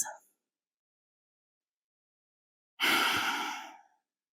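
A single long, soft exhale during a vinyasa yoga backbend practice, a breathy whoosh lasting about a second after a silent pause, close and fairly quiet.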